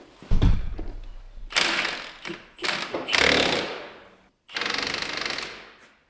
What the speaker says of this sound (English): now we just got to spin the nuts out on the inside